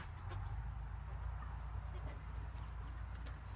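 Male chickens from dual-purpose poultry breeds cluck in a steady, busy barn chorus, with scattered short calls over a constant low background rumble.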